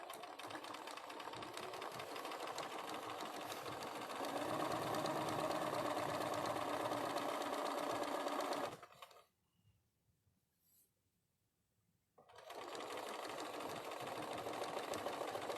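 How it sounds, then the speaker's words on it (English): A sewing machine stitches from the very edge of a small fabric project, a steady close whirring hum that runs continuously, stops for a few seconds of near silence, then starts again, with no voices. "just start sewing at the very edge of your fabric"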